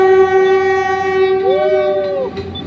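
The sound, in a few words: PNR train passing in Manila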